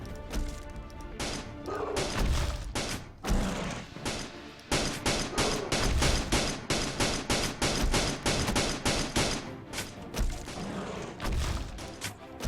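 Rapid gunfire fills Planet Explorers combat, with dense bursts of shots and impacts rattling almost continuously, loud and close, broken by a few short pauses.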